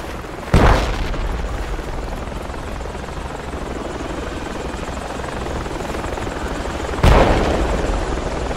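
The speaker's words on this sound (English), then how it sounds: "Helicopter landing." A helicopter lands in the Project Reality military video game, its rotor drone steady and loud throughout, with two sharp heavy thumps breaking in near the start and again toward the end.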